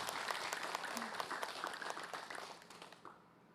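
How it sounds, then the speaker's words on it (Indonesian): An audience at an Islamic religious lecture applauds with brisk, dense clapping that gradually thins and fades out near the end. "Tepuk tangan dulu."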